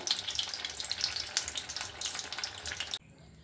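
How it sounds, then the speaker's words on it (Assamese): Brinjal chops deep-fry in hot oil, a dense crackling sizzle with bubbling pops that cuts off abruptly near the end, leaving quiet. "ধুনীয়া মচমচীয়াকৈ ভাজি ল'ম"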